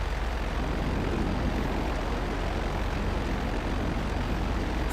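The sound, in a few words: plane engine in video game GTA Online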